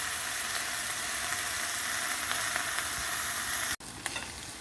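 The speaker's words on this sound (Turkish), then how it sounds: "O kadar ince olduğu için köftelerimiz o kadar çabuk pişiyor ki" Thin köfte meatballs frying in a pan give a loud, steady sizzle that fills the whole clip, broken by one brief pause near the end before the hiss resumes.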